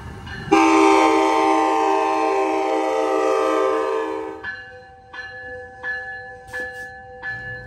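Amtrak passenger train arriving at the Hayward station, with a loud sustained horn blast lasting several seconds, followed by quieter ringing bell tones and rumbling rail noise as it pulls in.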